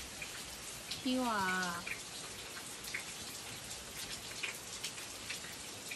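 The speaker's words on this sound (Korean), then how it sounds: "비 와." Rain falls on a farm in Gangwon-do, a soft, steady patter of drops throughout, with a brief whining vocal from a dog in the first seconds and light scattered taps.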